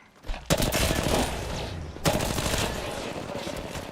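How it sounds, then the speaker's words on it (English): Automatic gunfire in the battle royale game Apex Legends, two loud sustained bursts of rapid shots starting abruptly, close and dense. "Getting shot at."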